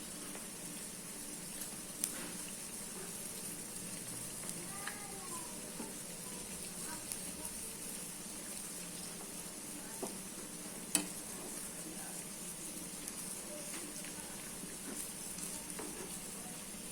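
Onion vadas made from gram flour batter fry in hot oil over medium heat, giving a steady soft sizzle throughout with a few faint clicks as pieces are turned, and no talking.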